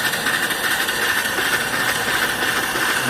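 A steam engine drives an electric alternator on a small stand, turning near its top speed of about 250 to 300 RPM while the alternator spins around 1,000. It gives a steady, close mechanical whir and hum with no break and no talk.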